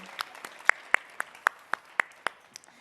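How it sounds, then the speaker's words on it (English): A few rhythmic claps ring out in steady time at a dance therapy session, about ten sharp distinct hand claps evenly spaced, fairly close and clear over a quiet background. "Round of applause."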